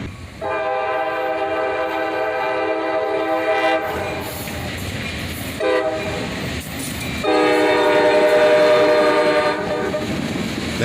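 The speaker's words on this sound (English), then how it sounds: "Later, we'd catch this one with an SD40-3 leading and a Jeep 40-2 trailing." Freight train led by an SD40-3 locomotive with a trailing unit, its horn blaring loud and close in long sustained blasts with brief breaks, over rumbling engines and rolling wagons.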